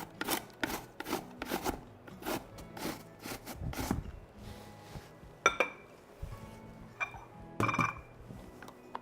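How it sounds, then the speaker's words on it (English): A spoon scrapes and stirs finely grated apple into cabbage in a pot, with a quick run of rhythmic rubbing strokes, then slower scrapes and a few light clinks against the pot. "I'm just going to grate this really fine and stir it right into my cabbage."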